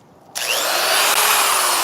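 A Dremel rotary tool with a burr bit bites into wood while carving an owl, starting abruptly and holding a loud, steady high-pitched grinding whine.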